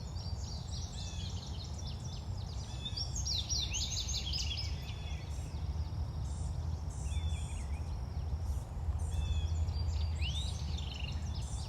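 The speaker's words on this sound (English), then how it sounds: "Do you hear all of the different birds that are singing right now?" Many birds chirp and sing at once outdoors, overlapping calls and trills near and far over a steady low background rumble.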